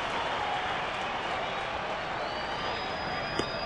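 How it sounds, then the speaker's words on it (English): Big evening crowd at a Detroit Tigers baseball stadium during a Kansas City game, a dense, steady roar of cheering and applause, with a voice faintly under it. "Now the crowd getting into it."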